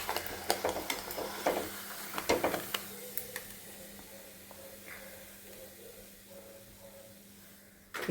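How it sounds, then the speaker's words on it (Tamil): Rice appalam fry in hot oil with a soft, steady sizzle and scattered crackling pops, fairly faint and close, with no talking. "இவ்வளோ சூப்பராக பொரிஞ்சு வருது பாருங்கள்"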